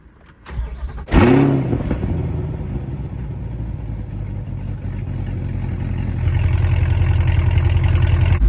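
A 2022 Chevrolet C8 Corvette engine cranks and fires at about one second with a sharp, loud rev flare, then settles into a steady, deep idle that grows slightly louder near the end.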